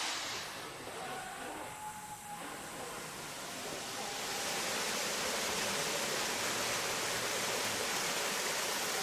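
A waterfall in North Korea gives a steady, dense rushing roar that swells louder partway through and then holds as a constant wash of water noise.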